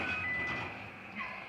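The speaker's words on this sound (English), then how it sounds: "And I'm hearing my timer go off," A kitchen timer goes off while a Spanish frittata cooks, giving a thin, steady electronic tone that rings briefly and fairly quietly over background kitchen noise.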